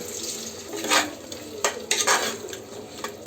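Tomato and masala stirred in a cooking pan while it fries, making a continuous scraping and sizzling with several louder strokes of the spoon against the metal, close and without talk.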